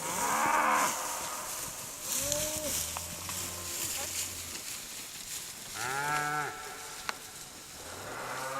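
Several cattle moo repeatedly during a cattle drive along a hillside, drawn-out calls at moderate distance over outdoor wind noise, with a voice faintly under them.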